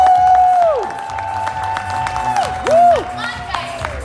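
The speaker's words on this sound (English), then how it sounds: "Ladies and gentlemen, a round of applause." Crowd at a stand-up comedy show in a playhouse cheering and clapping for a comedian, with loud whoops and rising-falling shouts over a steady patter of applause.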